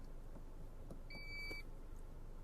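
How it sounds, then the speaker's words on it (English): A single short electronic beep confirming a seat memory setting, clear and steady, rising over a quiet low hum inside a Toyota Alphard or Vellfire. "the beep sound means that it's done."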